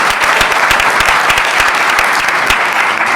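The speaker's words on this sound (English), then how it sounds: "Give Mel another round of applause" A conference audience at a voting rights session gives loud, close applause, thick continuous clapping with sharp individual claps standing out for about three seconds.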